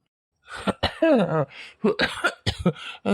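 A man coughs repeatedly from harsh chili fumes, loud and close, with voiced, throaty bursts that run together and may include speech-like sounds.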